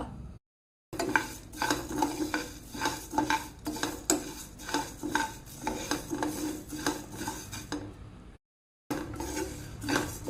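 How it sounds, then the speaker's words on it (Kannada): Spices frying in a pan on a low flame, with repeated metallic scraping and stirring of a utensil against the pan over a soft sizzle, steady and close, briefly pausing near the start and end. "ಇದನ್ನು ಇವಾಗ ಲೋ ಫ್ಲೇಮಲ್ಲಿ ನಾನು ಫ್ರೈ ಮಾಡ್ತೇನೆ"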